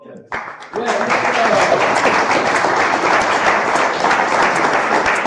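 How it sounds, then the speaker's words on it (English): A crowd at a shogi tournament bursts into loud, sustained applause after a brief moment, steady dense clapping continuing to the end. "So please, big applause for Ishikawa Sensei for the live commentary."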